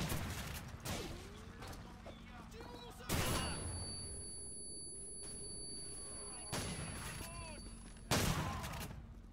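Semi-automatic shotgun fire in the Call of Duty 4: Modern Warfare video game, with several loud booming blasts spaced a few seconds apart, each trailing into a decaying echo.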